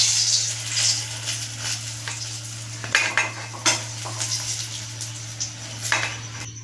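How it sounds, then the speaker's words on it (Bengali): Fried eggplant being lifted out of hot oil in a home kitchen pan, with soft clinks of a utensil against the pan over a steady low hum and a quiet background sizzle, several sharper taps spaced through. "বেগুনটা ভাজা গেছে, এবার আমি উঠিয়ে নিচ্ছি।"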